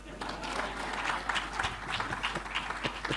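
Crowd applause at a talk on Africa's future, honoring an 84-year-old speaker, a steady patter of many hands at moderate volume with a low hum beneath and some voices mixed in.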